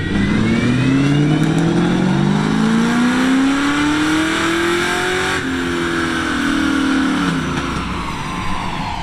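A first-generation Ford Mustang on a dyno, engine climbing steadily in a long loud pull, easing slightly near the middle and finally backing off, with no talking over it.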